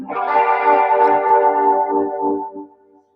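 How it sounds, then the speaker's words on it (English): An electric guitar runs through a pedal with a tube driver and an echo effect. A sustained, ambient, washed-out chord rings with a drifting echo and fades out over about three seconds. "it actually has a tube driver thing on here as well as some kind of an echo effect"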